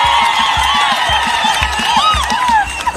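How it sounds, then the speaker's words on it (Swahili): A crowd at a Kenyan military church ceremony cheers loudly for a bishop, with whoops and high ululating calls over steady rhythmic low thumps, close and sustained throughout. "Fraternity, tumpigie makofi"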